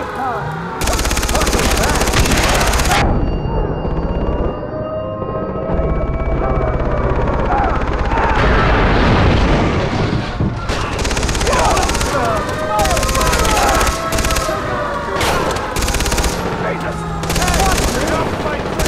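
Machine gun fire in the shooter game Far Cry 3, loud, sustained automatic bursts with heavy gunfire layered throughout, mixed with game sounds and a voice.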